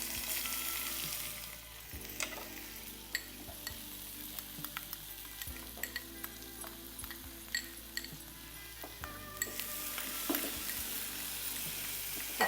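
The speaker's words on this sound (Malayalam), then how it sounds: "ഇതിലേക്ക് നമുക്ക് ആദ്യം സവാള ഇടാം." Onions fry in hot coconut oil with a soft continuous sizzle, broken by frequent close stirring scrapes and light utensil clinks against the pan, with no talking.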